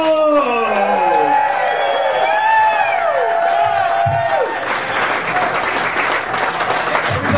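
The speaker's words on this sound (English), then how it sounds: "please welcome to the stage a big round of applause for Mr. Tom Rhodes!" Audience applauds and cheers at a stand-up comedy show as a comic is welcomed to the stage, steady loud clapping with whoops, plus a shouted announcer voice at the start.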